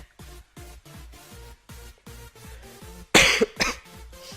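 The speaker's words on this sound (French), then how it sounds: "désolé si je tousse" A person coughs twice in quick succession, close and harsh, breaking through a steady rhythmic pulsing background.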